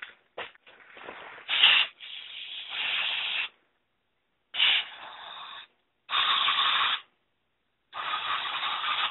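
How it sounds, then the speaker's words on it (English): Carburetor cleaner sprayed from an aerosol can into a Briggs carburetor, a series of close, loud hissing bursts of about one to two seconds each, separated by short silences. "I just use carburetor cleaner."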